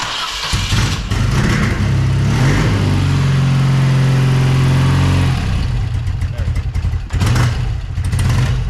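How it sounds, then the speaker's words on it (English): Engine of a 1972 BMW R100/5 motorcycle cranking and catching, then running loud and steady for a few seconds before dropping back, with someone speaking briefly around it. "Speedometer does work, but yeah, let's fire her up."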